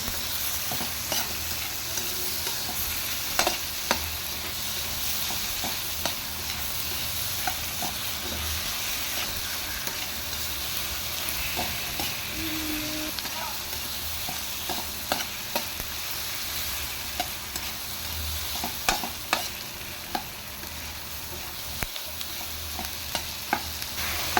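Onion and other ingredients for miso sinigang sizzle in a pan under a continuous frying hiss, with repeated small clicks and scrapes as they are stirred, close and alone.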